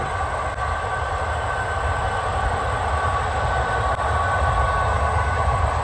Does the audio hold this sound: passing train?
yes